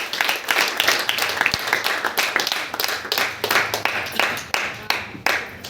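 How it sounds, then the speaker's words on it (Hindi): Audience at a Delhi LDP training session clapping loudly, a dense run of sharp individual hand claps lasting several seconds without spoken words. "बस जोरदार तालियां अपने लिए मारिएगा।"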